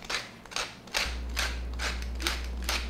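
Pepper grinder turned by hand over a vinaigrette bowl, a close, repeated ratcheting crunch in about six even strokes over a low steady hum.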